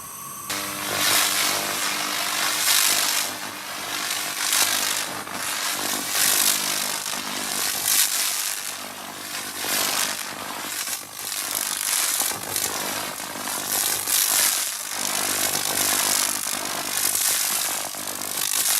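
A 2000W SFX laser rust removal machine strips rust and epoxy primer from old metal, giving a loud, continuous bright hiss and crackle with rapid pulsing, steady throughout and close up, without any talking.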